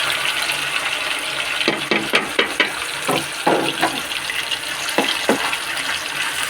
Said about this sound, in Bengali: চিকেনগুলো হালকা আছে একটু হালকাভাবে ভেজে নেব।